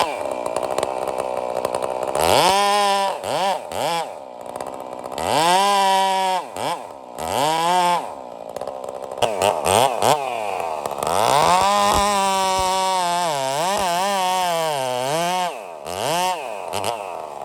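Budget MS460 clone chainsaw running while logging: a loud, close engine that repeatedly revs up and drops back, its whining pitch rising and falling through the cutting.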